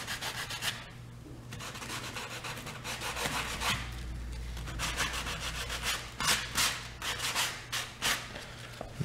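Steady, close scraping and rubbing as nail holes on wooden baseboard trim are smoothed out, repeating in rough strokes with no talk.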